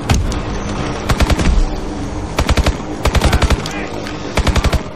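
Rapid automatic gunfire in Call of Duty Advanced Warfare, loud repeated bursts over a constant dense battle din, with a voice occasionally talking underneath.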